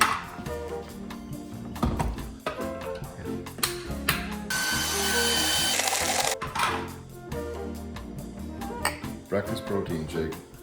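A countertop blender whirs loudly for about two seconds, blending a vegan breakfast protein smoothie. The blending sits between stretches of nearby kitchen clatter, with people talking throughout.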